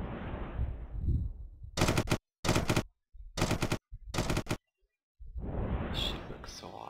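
Spaceship guns fire in the space game Starfarer: four loud, rapid bursts of automatic shots separated by short silences, with someone talking before and after the firing.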